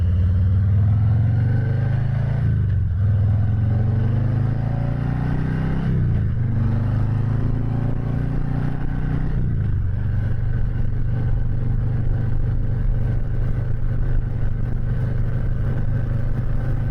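Harley-Davidson Heritage touring motorcycle with a 114 engine accelerating through the gears, a loud, close, low rumbling exhaust that rises in pitch three times, dropping briefly at each shift before settling into a steady drone.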